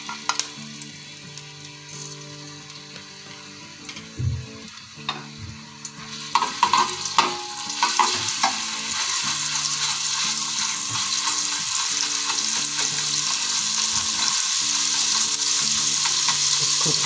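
Ginger garlic paste frying and being stirred in a pan, a steady loud sizzle that swells after a few seconds as it hits the hot oil, with scraping stir strokes throughout.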